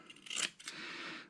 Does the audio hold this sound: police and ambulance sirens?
no